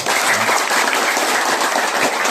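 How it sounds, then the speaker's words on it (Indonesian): An audience at a community protection (Linmas) training event in Cikampek bursts into dense, steady applause, many hands clapping together throughout. "Tepuk tangan dulu semuanya."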